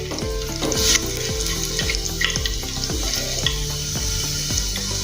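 Chopped ginger and garlic fry in a pan for a lentil dal, a steady sizzle with repeated stirring scrapes and clinks throughout, no speech.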